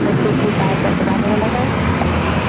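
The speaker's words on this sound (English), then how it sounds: "It's the NetJets coming in from Flagstaff" NetJets business jet arriving from Flagstaff on approach to San Diego airport, a loud, continuous engine roar filling the short moment without a break.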